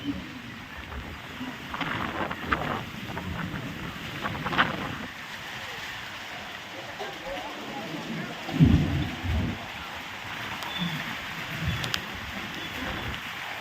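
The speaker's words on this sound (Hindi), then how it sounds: "कितना जोरदार दोस्तों आंधी बह रहा है" Strong gusty wind roars and buffets the microphone in Bihar, India, with a faint patter of light rain and occasional louder rumbling gusts throughout.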